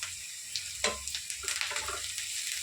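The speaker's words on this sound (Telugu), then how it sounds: "ఒక పచ్చిమిరపకాయలు ఫ్రై చేసుకున్నాం అండి కొంచెం కరేపాకు వేసుకున్నాం" Green chillies and curry leaves frying in a pan for a bottle gourd curry, a soft steady sizzle with a few sharper crackles and spatters over a quiet background.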